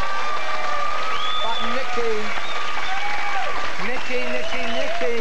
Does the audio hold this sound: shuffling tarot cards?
no